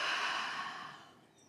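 A single long, soft exhale during a yoga flow, close and breathy, fading out over about a second.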